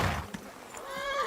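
A horse in the video game Kingdom Come: Deliverance 2 whinnies with a rising, wavering neigh, fairly close and clear, with a soft snort at the start.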